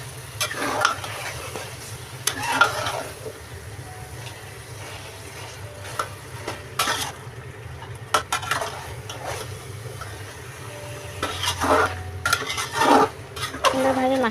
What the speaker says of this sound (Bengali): সুন্দরভাবে দেওয়ার পরে সুন্দরভাবে নেড়ে চেড়ে মশলার সাথে মিশিয়ে দেবো।